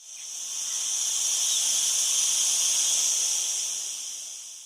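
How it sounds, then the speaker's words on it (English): Cicadas buzzing in a dense, high-pitched electric drone that swells in, holds steady for several seconds, then tapers off, with no voices. "If you said those are cicadas,"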